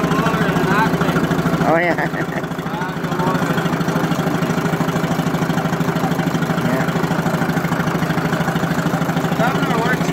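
A 1951 Ferguson TE 20 tractor engine idles loud and close with a steady, fast mechanical chug and slight governor surging, running continuously while someone briefly speaks over it.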